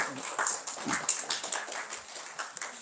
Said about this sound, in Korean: 마지막 강의실 최명희 교수의 박수 한번 보내주시죠